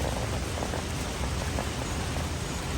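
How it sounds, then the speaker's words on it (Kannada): A downpour during a thunderstorm drums steadily and loudly, a thick continuous hiss of rain on surfaces with scattered nearby drips. "ಚೆನ್ನಾಗಿ ಮಳೆ ಸುರಿತಾ ಇದೆ"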